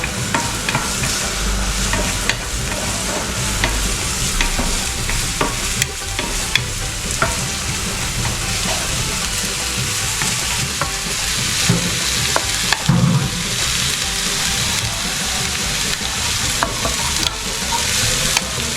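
Pork stir-fried fast over high heat in a pan for pork chilli, a loud continuous sizzle with constant clattering scrapes and tosses of the spatula, close and busy from start to finish.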